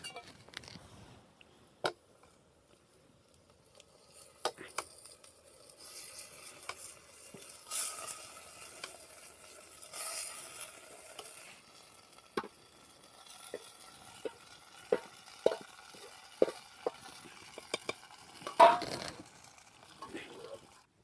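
Pav bhaji vegetables being stirred into roasted masala in a pot over a wood-fired chulha, with scattered scraping and clinking strokes over a faint sizzle, intermittent and fairly close.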